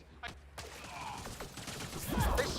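Gunfire in the video game Mass Effect Andromeda, a few quick shots and a short burst at moderate loudness, mixed with combat effects that swell toward the end, with a voice speaking in the game audio.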